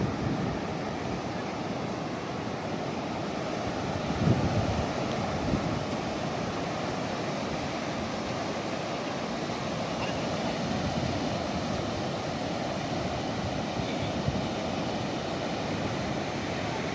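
Sea waves washing onto the shore at Henry Island near Bakkhali, a steady broad roar of surf mixed with wind buffeting the microphone, continuous and fairly distant.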